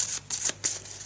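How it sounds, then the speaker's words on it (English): Playing cards riffled back into a deck during a tabletop game, three or four short papery bursts of shuffling close up with brief pauses between them. "We shuffle these 2 into the deck again"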